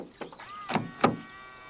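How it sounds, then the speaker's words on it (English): A couple of sharp mechanical clicks and thunks from a 2021 Peugeot 3008 door locking via the keyless front handle, with a brief whirring actuator tone between them, close by and otherwise quiet. "To lock the car, press the ribbed area on any of the front door handles"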